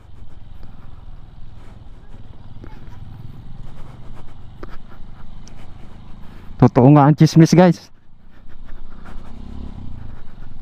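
A motorcycle rides over a rough road near Panoypoy in Mariveles, Bataan, its low engine rumble running steadily beneath a rider's talk, with a brief loud burst of voice near the end.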